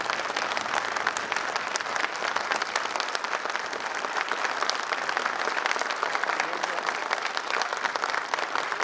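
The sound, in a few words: audience applause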